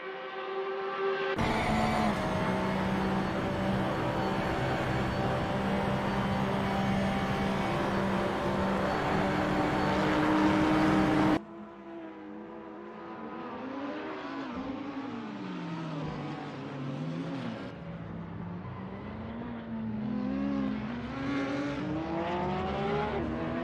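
Porsche 911 GT3R race car in the racing game Assetto Corsa: a loud continuous engine drone, then an abrupt cut to a different engine note that rises and falls with revving and gear changes.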